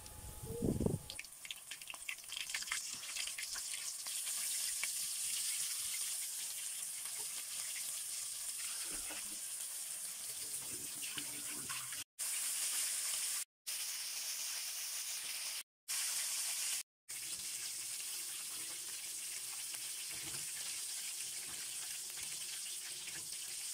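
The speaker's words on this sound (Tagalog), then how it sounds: "Sa mainit na kawali na may mantika, iprito na natin ang ating na-coat na chicken." Coated chicken pieces frying in hot oil in a pan, a continuous bright sizzle and hiss that runs steadily throughout, with a few brief dropouts near the end.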